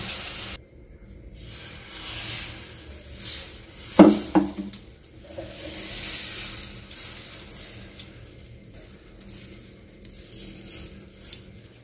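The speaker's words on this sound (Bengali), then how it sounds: "ভেজে নেওয়ার জন্য দেখুন একটা তাওয়া বসিয়ে দিয়েছি, খুব ভালো করে গরম করে নিয়েছি। এবার আমি ওপর থেকে একটু জলের ছিটে দিয়ে দেবো।" Water sprinkled onto a very hot tawa for gola ruti, giving a sharp spray-like hiss and sizzle that flares once and then fades into a quieter crackle, with no talking.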